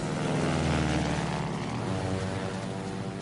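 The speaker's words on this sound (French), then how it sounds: "Un Spad, un chasseur ennemi." A WWI French Spad 7 fighter's propeller engine drones steadily and loudly, a continuous rough buzzing roar that holds throughout without pause, as the plane approaches.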